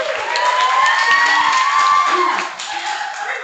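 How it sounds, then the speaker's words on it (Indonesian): A workshop audience in a hall on Islamic preaching through business claps and cheers in a lively burst that fades partway through. "Boleh tepuk tangannya?"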